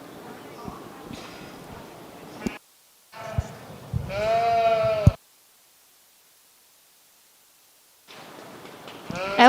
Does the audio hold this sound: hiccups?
no